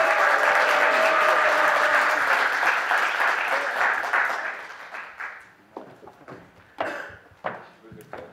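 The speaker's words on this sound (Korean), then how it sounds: "큰 박수로 맞이해 주시기 바랍니다" An audience at a Basic Income Party founding convention applauds as a party leader candidate is welcomed, with dense, loud clapping that thins out after about four seconds into scattered claps and a few voices.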